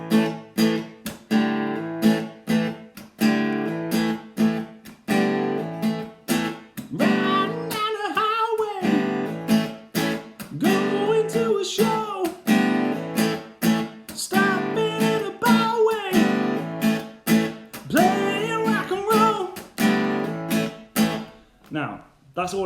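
Guitar strums rhythmic chords in A in a rock style, a steady pattern of strong strokes alternating between two chord shapes, with a voice singing along over the playing throughout.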